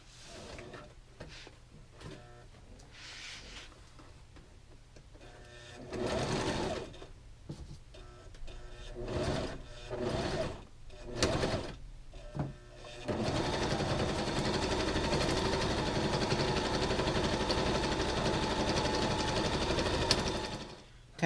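Sewing machine stitching costume pieces for a Thor build, running in short bursts at first, then one long steady run of close, even mechanical whirring.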